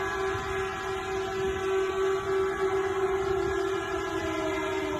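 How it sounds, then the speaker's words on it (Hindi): Sirens sound at an Aramco oil refinery after a missile strike: one sustained, unbroken wailing tone over a constant background rumble, heard alone and at a distance. "सायरन की आवाजें किसी रिफाइनरी से आ रही है।"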